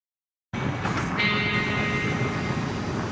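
TranzAlpine passenger train running through a New Zealand mountain gorge, a steady loud rumble and rolling roar starting abruptly after a brief silence, with a faint high squeal joining midway.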